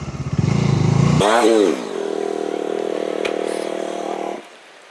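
A motorcycle engine pushed hard, revving up strongly then holding a steady, loud drone close by, with the note dropping as the throttle eases near the end.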